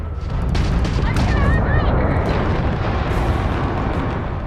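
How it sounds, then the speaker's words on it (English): A spaceship blows up in the video game Starfield: a loud, sustained rumbling blast with crackling debris and brief whooshing tones, filling the clip with little letup. "After destroying an enemy ship, you can loot the remains from your cockpit."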